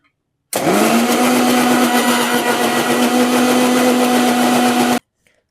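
An electric mixer grinds kokam solkadi ingredients with warm water, one continuous loud whirring burst with a steady motor whine that starts abruptly and stops after about four and a half seconds.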